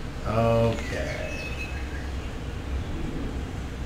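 A pigeon or dove gives one short, clear coo near the start, then soft, steady forest ambience carries on beneath.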